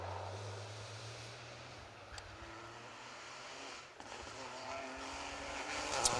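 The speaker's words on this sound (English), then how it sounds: "Next up for us then, Peugeot 208 Rally 4." Peugeot 208 Rally 4 rally car on an asphalt stage, its engine droning steadily at a distance with shifting pitch, moderately faint against outdoor background noise.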